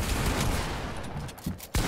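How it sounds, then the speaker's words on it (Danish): Gunfire in a Fortnite match, a dense rattle of rapid shots, with a sharper burst near the end. "Jamen, jeg skyder også."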